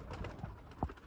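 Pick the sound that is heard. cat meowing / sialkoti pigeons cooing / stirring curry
sialkoti pigeons cooing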